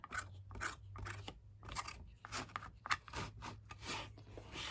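Glue is spread across a junk book cover with a little plastic tool, heard as faint, close, irregular scraping and crackling strokes with short pauses between them.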